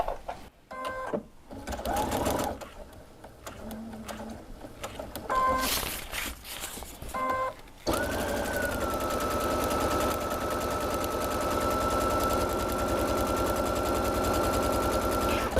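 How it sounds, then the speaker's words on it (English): A sewing machine stitches around a small fabric flyer. Button beeps and handling clicks come first, then a long, continuous run of rhythmic stitching, close and steady. "we're going to sew around our little flyer"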